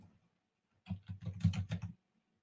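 Typing on a computer keyboard at a desk, a short burst of quick, close keystrokes lasting about a second, heard alone with no talking.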